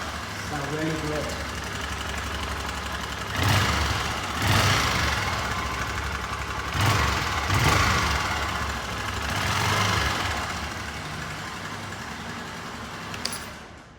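A Honda motorcycle engine idles steadily with a rich air-fuel mixture, a close, loud low rumble that swells and eases in a few slow surges before a brief sharp tap near the end.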